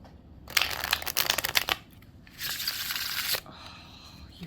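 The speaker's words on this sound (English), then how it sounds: "So let's give it a shuffle." A Thoth tarot card deck being shuffled by hand in an underhand style, with two bursts of crisp, riffling card noise close to the microphone and a short pause between them.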